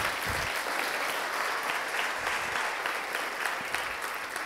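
A church congregation applauds during Pastor Sergio Gutierrez's sermon, a dense, continuous wash of clapping at a steady level throughout, no speech over it.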